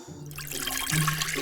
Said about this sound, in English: Henry, pour quietly.